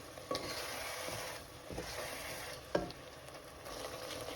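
Chicken being stirred with ground masala of onion, tomato, coriander, cinnamon, clove and poppy seed in a pan: a quiet, close sizzle with a few sharp scrapes and knocks of the spoon against the pan.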